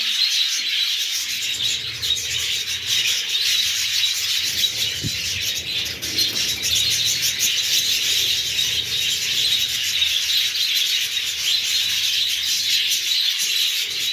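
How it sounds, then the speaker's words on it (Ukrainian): Parrots chirp and chatter steadily in a heated winter aviary, a dense, continuous high twittering from many birds throughout, with no talk over it. "Так, ось ці папуги."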